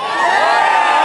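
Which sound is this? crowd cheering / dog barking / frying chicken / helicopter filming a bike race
crowd cheering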